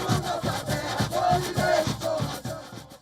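A large crowd of indigenous protesters marching in Brasilia, loud massed voices chanting and shouting in rhythmic surges, close and continuous throughout.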